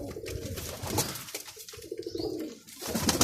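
Pigeons in a loft of fancy breeds including teddy and golden types coo repeatedly, with soft overlapping calls and wing rustles close by.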